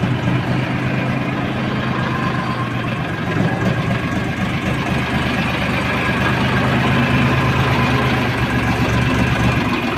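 A tractor engine idles steadily after hauling a load of potatoes under a roof, a loud, continuous low rumble lasting throughout with no speech over it.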